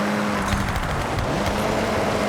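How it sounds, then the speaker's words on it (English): Car engine in Forza Horizon 6 during a rally-style drive, a continuous loud revving drone with steady tire and road rumble, close and alone without talk. "You can hear the engine has more power."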